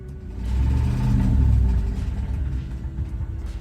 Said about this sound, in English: he's got Hemi tick where a cam or lifter has failed.